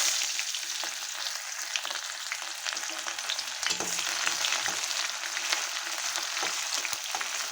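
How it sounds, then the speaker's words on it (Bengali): Onions for biryani fry in hot oil in a kadai, giving a dense, continuous hiss and crackle with faint stirring taps throughout, with no one talking. "এখন পেঁয়াজটা ভেজে নেব।"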